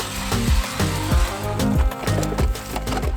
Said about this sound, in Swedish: det är bara att ta borren och borra ett 200 mm hål